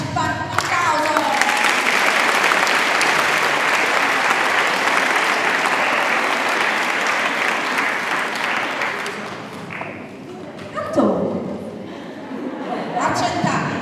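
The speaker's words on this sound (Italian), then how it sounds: "Un applauso." Audience applause at a parade of traditional Sardinian costumes in Ottana, sustained dense clapping for about ten seconds before thinning out, with a voice speaking over the tail end.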